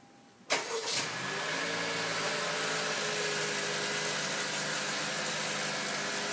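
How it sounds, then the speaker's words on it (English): A 2018 Honda CR-V engine, started by a Viper remote start, cranks and catches about half a second in, then settles into a steady, close idle that hums on for several seconds with no voices. "A few seconds later, the engine cranks."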